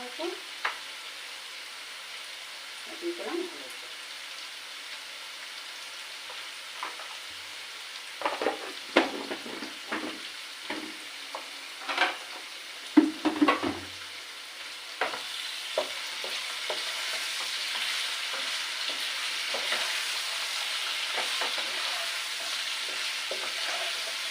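Potatoes frying in a pan for a chow mein recipe, a soft sizzle broken by scattered scrapes and clinks from stirring, then a louder steady hiss near the end, with no talking.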